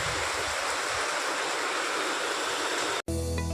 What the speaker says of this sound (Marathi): गडगडाट पण होतो आहे आणि पाऊस पण